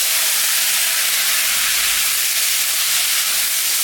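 Pumpkin pieces dropped into a pan of simmering rohu fish curry give a steady, broad sizzle and hiss, close and continuous with no talking.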